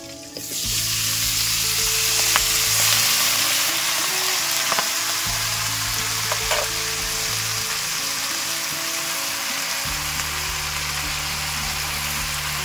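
Malabar spinach greens and slit green chillies sizzle and fry steadily in a pan, a continuous close hiss with faint stirring scrapes and no talk.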